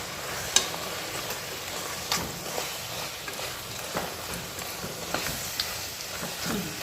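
Spice masala for mutton curry frying in a pan, a steady soft sizzle and hiss with occasional light scrapes from stirring, close and continuous with no voices.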